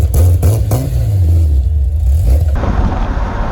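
A BMW M20 2.7i inline-six engine, freshly swapped in, hums loudly close by with a rising tonal drone and a few sharp clattering bursts, shifting to a rougher rumble near the end.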